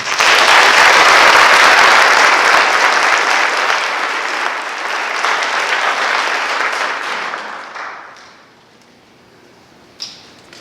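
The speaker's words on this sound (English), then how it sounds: "Our NHS class of 2020, let's give them a round of applause." A large audience at a high school National Honor Society induction applauds the new inductees, with loud, full clapping that holds steady and then fades away around eight seconds, followed by a single sharp knock near the end.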